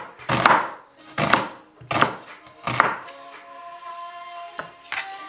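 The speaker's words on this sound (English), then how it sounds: "I cut the onions at very last to protect my eyes." Onions being chopped on a wooden board for a Cuban chicken fricassee: four loud, evenly spaced knife thunks, then softer scraping and a few lighter cuts, close up with no talk.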